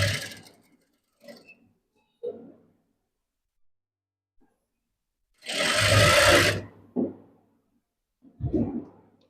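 A sewing machine stitches folded blouse cloth in one loud, close burst of about a second, with short separate handling noises and quiet gaps before and after.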